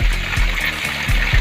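Cold spring-fed water pours steadily from a shower spout in the Bener Meriah highlands, a close continuous splashing rush with a faint rhythmic low thumping underneath.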